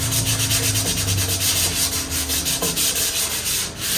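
Steady, close sanding of a white pine bookshelf's main surface, a continuous rasping rub with slight rhythmic strokes and no voices.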